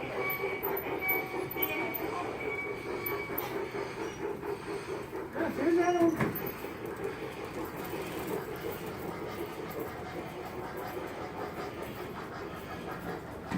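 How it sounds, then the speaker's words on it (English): A train rolls past near a hospital, its rumble and hiss steady throughout, with a rising wheel squeal in the middle; nobody speaks. "Pretty sad, Val, when I am taking videos of trains for Gavin"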